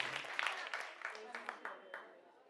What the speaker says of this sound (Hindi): एक बार जोरदार तालियां अपने लिए बजा